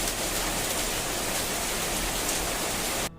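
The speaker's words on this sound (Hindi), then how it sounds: "बाहर खूब झमाझम बारिश हो रही है।" Heavy monsoon rain pouring outside a home in Gorakhpur, a steady dense hiss that fills the whole stretch loudly and without pause, then cuts off abruptly at the end.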